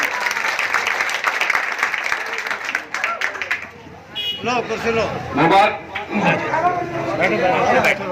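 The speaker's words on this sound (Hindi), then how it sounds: "आप लोग जोरदार तालियों से इस्तकबाल कीजिएगा।" At an election gathering in Laliyana, a crowd applauds loudly to welcome a guest with a burst of dense clapping. The applause fades into someone speaking over a microphone, with murmuring in the background.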